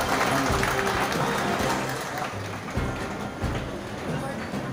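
Applause from an outdoor crowd at a railway foundation stone ceremony in Ujjain, a burst of clapping that fades somewhat, with voices and other noise mixed in.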